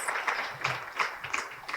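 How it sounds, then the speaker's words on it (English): Audience applause for panelists after a keynote at an early-childhood investment forum in Montgomery County, heard as a thin, moderately distant patter of scattered clapping with uneven bursts, fairly faint throughout. "Can we give a round of applause to our panelists and to Dan for his keynote address?"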